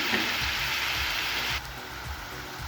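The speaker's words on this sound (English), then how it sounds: "As you can hear and feel the sizzling deliciousness of our chicken" Chicken stir-frying with onions, Thai chili and garlic in a hot pan for Thai basil chicken gives a steady, loud broadband sizzle that drops slightly in intensity partway through, with faint stirring clatter underneath.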